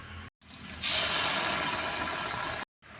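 Ginger garlic paste pours into a large pot for village-style turkey gravy, a sustained wet, hissing rush of liquid lasting a couple of seconds, framed by brief silent cuts.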